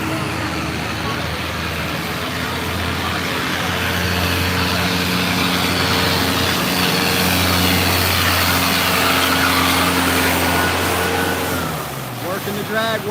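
A drag racing motorcycle engine drones loudly and steadily at a drag strip, humming with strong low tones for several seconds before the pitch drops away near the end.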